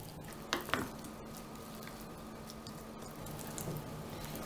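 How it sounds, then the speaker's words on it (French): Ingredients for a savoury courgette cake with blue cheese and Comté get mixed in a bowl, with a couple of brief scraping stirs near the start and then a faint, steady background hiss. "Mélangez bien le tout"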